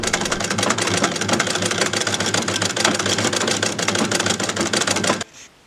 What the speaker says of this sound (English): While I have not completely mastered the treadle sewing machine, I have gotten into a really good rhythm and can keep it going